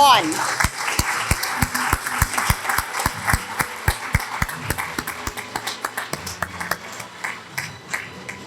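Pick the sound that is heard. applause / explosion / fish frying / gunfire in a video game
applause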